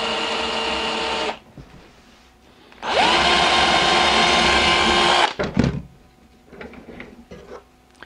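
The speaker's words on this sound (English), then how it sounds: "I'm going to go ahead and drill all my holes so I got something to hold on to so it's not so small." A power drill bores holes into a small piece of scrap two-part resin in two loud, whining bursts of a few seconds each. The motor pitch rises and steadies during the second burst, then quieter handling noises follow.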